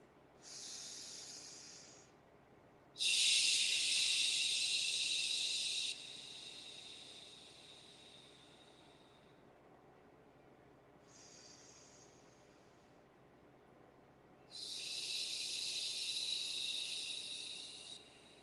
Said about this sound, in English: One more purifying breath.